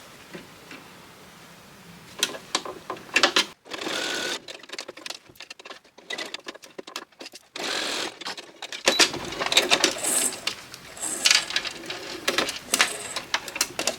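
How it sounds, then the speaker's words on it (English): A sewing machine stitches fabric for a snippet roll in rapid mechanical bursts, its needle chatter starting, pausing briefly and resuming several times at close range. "I'm going to just sew that across"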